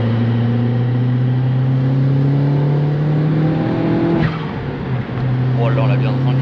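A tuned Volkswagen Polo GTI 9N3 with over 280 hp accelerates with a steady, loud engine drone that climbs in pitch, heard from inside the car, then briefly dips and picks up again.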